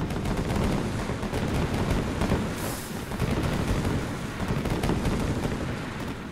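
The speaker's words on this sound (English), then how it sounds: "The fireworks killed him." Fireworks in a zombie video game crackle and pop in a dense, continuous barrage of rapid bursts, loud and steady throughout with no talk.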